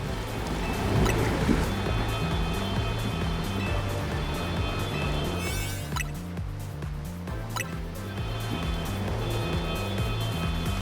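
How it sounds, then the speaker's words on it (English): Rushing waterfall in the video game Pokemon Legends: Z-A, a steady broadband wash of falling water heard alongside a looping game music bed, continuous and moderately loud throughout. "Oh, of course, it's in a waterfall."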